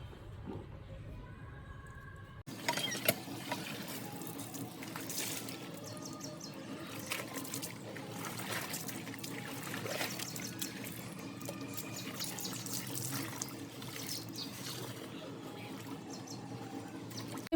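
Tap water runs steadily while a new cloth is washed under it, a constant close hiss and splash that lasts throughout after a sudden start.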